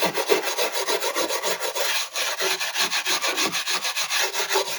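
Brass brush scrubbing old wax and glue off a wooden hinge recess, a steady rasping back-and-forth rub in rapid even strokes, close and fairly loud with a brief pause midway.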